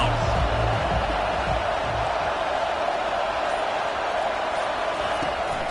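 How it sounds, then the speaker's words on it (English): Crowd roar at a Florida State at Notre Dame college football game on third down, a loud, steady wash of cheering filling the scene under a faint voice. "Decibels rising as the crowd gets behind this defense on 3rd down."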